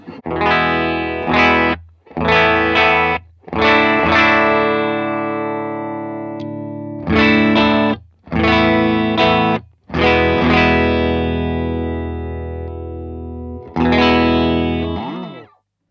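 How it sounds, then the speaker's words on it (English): Loud, distorted electric guitar through tube amps with always-on pedals plays chords in bursts separated by short silences, thick and ringing with effects, ending on a bending note. "the guitar into the amps with a couple of always on pedals"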